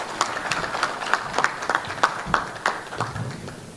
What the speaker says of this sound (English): Another round of applause for Honorable Chairman.